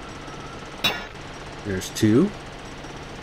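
A mech drills for silver ore in a mining video game, giving short mechanical bursts with metallic clinks in a steady background hum, while a voice briefly counts.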